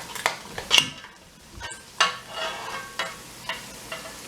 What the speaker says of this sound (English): so I'm just frying everything